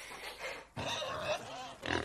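Pigs grunting and oinking on a farm, a few rough, close grunts in short bursts with brief gaps, fairly quiet and without speech.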